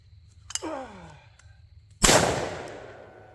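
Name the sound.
shotgun shot at clay targets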